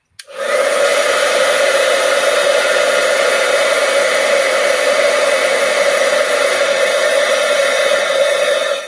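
A heat tool blows a steady, loud, even rush of hot air over a stamped card front for 'Hello Friend' embossing, running continuously and alone without a break.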